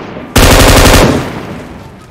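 Loud burst of automatic gunfire in the PUBG Mobile video game: a rapid, evenly spaced volley of shots lasting under a second, then a fading echo tail, with no talk over it.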